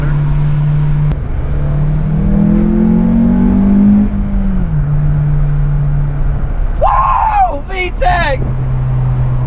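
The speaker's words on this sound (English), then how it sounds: "VTEC! That's what it's all about. You gotta hear it." An Acura TSX engine with a custom intake revs hard, its drone rising and then dropping back to a steady hum, before a voice loudly shouts over it near the end.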